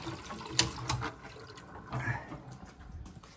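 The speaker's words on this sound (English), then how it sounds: "All right, we know the water's on. Let's turn that off." Water runs from an open tap in a house plumbing setup, a steady splashing hiss with a few clunks and knocks from the fitting, close by.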